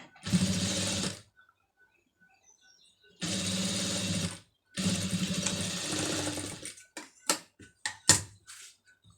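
A sewing machine stitches a pom pom trim design in three loud bursts of rapid running, separated by pauses, followed by a series of sharp clicks and taps as the fabric is adjusted.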